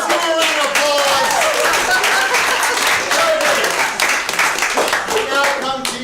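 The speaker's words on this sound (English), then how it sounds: "let's give a round of applause" Theatresports improv audience applauding and clapping in a theatre, a loud, steady wash of many hands lasting throughout, with voices and a presenter talking over it.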